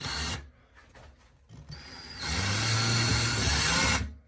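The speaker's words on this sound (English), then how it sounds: "let's go ahead and get our hole drill." A power drill with a hole bit cuts into a bathroom wall while a medicine cabinet is being installed: a few short clicks and bursts first, then one sustained whirring drill run of about two seconds that stops abruptly.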